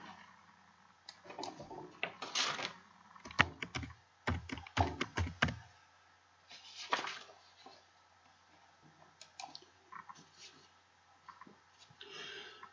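Keys clatter on a computer keyboard in irregular quick bursts separated by short pauses, close and fairly quiet, with soft speech faintly underneath.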